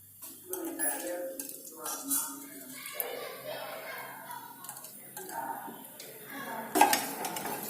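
Cumin seeds, cloves and cinnamon stirred as they fry in a pan, with intermittent clinks and scrapes of a utensil against the pan over a low sizzle, louder clatters near the end.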